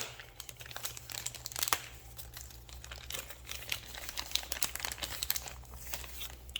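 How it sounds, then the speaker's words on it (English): A knife slices open the plastic bag holding a new radio antenna, giving close, quiet crinkling and tearing rustles in irregular bursts throughout, with no voices. "But again, a knife. Let's cut your bag open."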